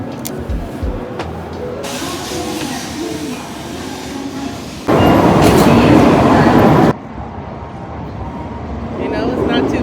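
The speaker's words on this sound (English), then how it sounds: "so the train has gotten here" A train pulls into a station on a Japanese trip toward Osaka, its rumble under ambient murmur, then a loud rushing burst of air for about two seconds before the platform noise settles again.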